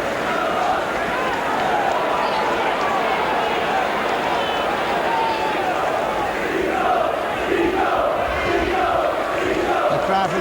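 Football fans on the Kop at Sheffield Wednesday's ground during a 1987 match against Norwich City keep up a continuous roar and chanting, a dense wash of crowd noise with a voice talking over it.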